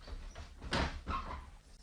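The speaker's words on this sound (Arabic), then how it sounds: "هقوم افتح الباب." A door opened inside a home: a couple of short scraping, rattling bursts close by, with no one talking.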